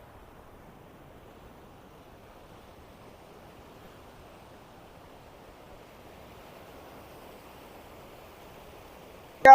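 Water rushes down at Aliyar dam as a faint, steady, distant wash of noise that holds even throughout and ends in a brief sharp knock.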